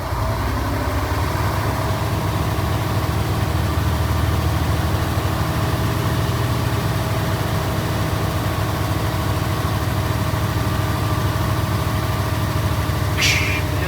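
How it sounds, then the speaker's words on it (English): A truck engine idles steadily throughout while it builds air pressure, a loud, constant low rumble with a faint hiss near the end and no talking. "I will leave the truck running"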